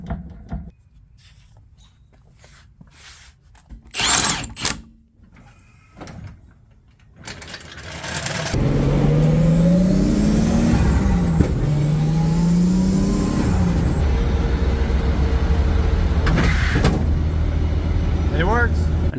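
A Nissan 240SX drift car on a test drive, quiet at first with door and cabin clunks, then the engine fires and revs loudly, holding a steady close roar with rising and falling pitch while people talk.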